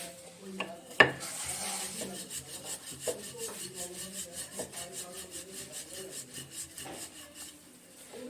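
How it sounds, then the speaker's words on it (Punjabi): A rolling pin works phulka dough on a board in a home kitchen, producing a steady series of soft rhythmic rolling strokes after an initial knock, close and fairly quiet. "ਸਭ ਤੋਂ ਪਹਿਲੇ ਅਸੀਂ ਇਹਨੂੰ ਫੁਲਕੇ ਨੂੰ ਵੇਲਾਂਗੇ"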